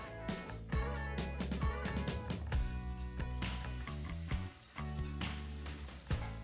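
Spanish onion and garlic frying in a pan, a steady sizzle with a broad hiss that runs through the whole stretch, fairly loud and without talk.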